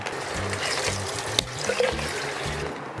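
Running water rinses something under a tap in a kitchen, a steady trickling splash with a brief knock midway, moderately close with no voices.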